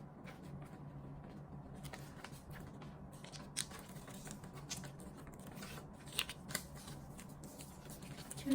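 Sheets of paper are creased and unfolded to make an origami eight-point knife: close crisp rustles, scrapes and snapping creases come in irregular bursts, with no speech.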